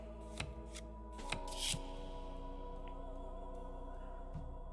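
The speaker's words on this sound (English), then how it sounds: "Think about Adana while I shuffle my deck." A tarot deck is shuffled in the video game The Cosmic Wheel Sisterhood, with a few quick card riffles and snaps over a low, steady musical drone.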